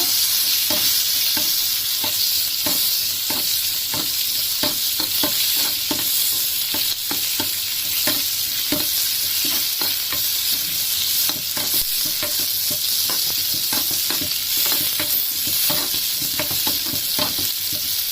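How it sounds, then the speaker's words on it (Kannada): Chopped onions sautéing in hot oil for hotel-style brinjal sambar, a loud continuous sizzle with rapid, regular stirring scrapes of a ladle against the pan throughout, close and without speech. "ಈಗ ಒಂದು ಹೆಚ್ಕೊಂಡಿರೋ ಈರುಳ್ಳಿ ಹಾಕ್ತಾ ಇದ್ದೀನಿ. ಬಾಡಿಸ್ಬೇಕು ಈರುಳ್ಳಿನ."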